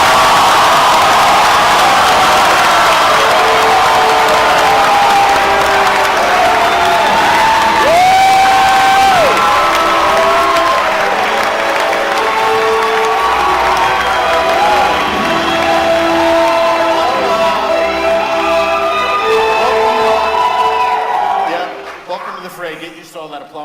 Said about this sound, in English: Get used to all that applause, by the way.